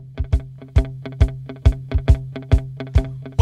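A driving rock intro plays, of evenly spaced punchy drum hits over a sustained low bass tone; loud, close and steady, with no voices.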